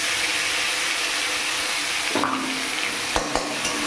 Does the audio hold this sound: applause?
no